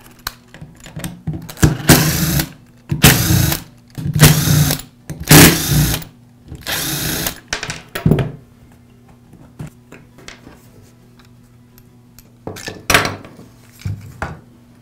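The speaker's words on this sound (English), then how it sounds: "Next, I'll separate the two halves of the rear housing." Bursts of whirring and plastic clattering as screws are driven out and the rear housing halves of a DeWALT angle grinder are pried apart, several close busy segments followed by quieter gaps and a few final clicks.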